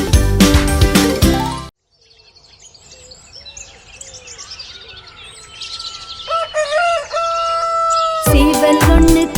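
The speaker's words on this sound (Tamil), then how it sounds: "சேவல் ஒண்ணு கூவுச்சான் காலையிலே" Within a Tamil children's song, a rooster crows near and clear amid chirping birds and other barnyard fowl, with music playing before and after the animal sounds.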